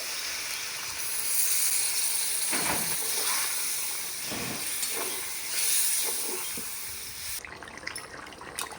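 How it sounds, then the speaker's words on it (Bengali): Water poured onto chicken frying in oil for a biryani gravy sets off a sustained, loud steamy hiss that swells and eases with bubbling, close by and without voices, before quieting near the end. "এরপর আমি গ্রেভির জন্য দিয়ে দেব জল"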